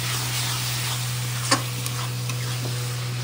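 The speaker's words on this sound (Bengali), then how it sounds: "পেঁয়াজ রসুন গরম মশলা সব কিছু দিয়ে একবারে একটু ফ্রাই করে মশলাটা কষানো হয়ে গেলে" Onion, garlic and garam masala fry in a pan for a Bengali-style chicken curry, giving a steady close sizzle. A steady low hum runs underneath and a single stirring knock comes midway, with no talk.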